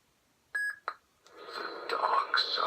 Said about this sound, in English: you can hold the auxiliary button, and it'll beep at you, and then it'll jump over to the next sound font